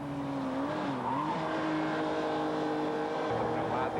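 A Ferrari Enzo at full speed on a track straight gives a loud, sustained engine whine that holds steady and climbs in pitch, with a slight wavering in the middle.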